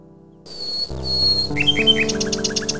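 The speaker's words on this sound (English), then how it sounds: "The little bird makes a delivery." A nightingale in the video game King's Quest 6 chirps in a rapid run of bright repeated tweets over synthesized game music.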